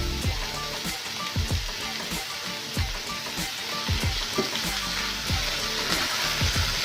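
Frying in a pan after pizza sauce is added gives a steady close sizzle with wet bubbling and crackle, punctuated by regular thuds and scrapes of a utensil stirring.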